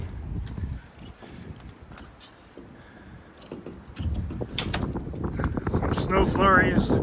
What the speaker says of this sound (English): We have windy conditions.